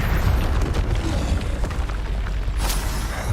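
Confringo fire-spell blast in the Hogwarts Legacy video game, a dense booming burst inside loud, continuous game noise with a sharp crackling hit near the end.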